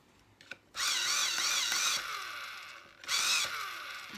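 A handheld sharpener grinds a colouring pencil in two bursts, a longer rasping whirr of about a second and a shorter one after a pause, close and crisp with a few small clicks before.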